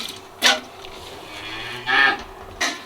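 A dairy cow moos in short, close bursts during hand milking in a barn, three brief lowing calls spaced apart over a steady background hum.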